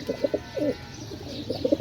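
Pigeons coo in soft, throaty bursts, a few calls near the start and again at the end, close by with quiet gaps between.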